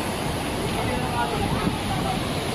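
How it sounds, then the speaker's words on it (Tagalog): Typhoon waves from Super Typhoon Rolly surge over houses in Camarines Sur, Bicol, a dense, continuous roaring wash of water and wind that stays loud throughout. "Hindi na po makita yung bahay. Natakloban na po ng alon. Sobrang lakas po."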